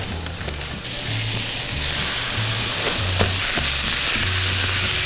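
Ground beef and onion frying in a hot pan, a steady close sizzle with occasional scraping as the meat is broken up and stirred, no talking.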